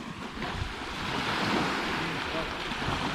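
A jet ski ridden out on open water, its engine noise blending with steady wind buffeting and wave wash that stay loud and continuous throughout, with no talking.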